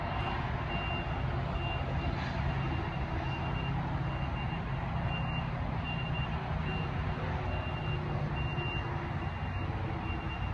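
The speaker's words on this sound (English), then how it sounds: "Okay, I hear the beeping." A truck's reversing alarm beeps in a steady, repeating rhythm over a constant low engine rumble, sounding moderately distant.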